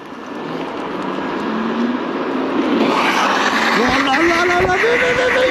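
A Slack Core 920R electric scooter does a burnout on a track, its motor whine rising steadily in pitch over a loud, continuous roar of tyre scrub, heard from a distance with voices talking over it.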